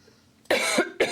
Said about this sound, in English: I feel like coughing now.